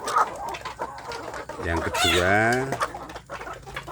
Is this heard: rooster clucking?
yes